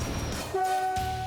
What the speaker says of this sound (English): From here, shunting locomotives, beefy engines made to haul massive loads short distances, make their move.